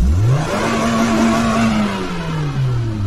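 A stationary car's engine is revved at full throttle, pitch climbing sharply then holding a loud, steady high rev before slowly easing down.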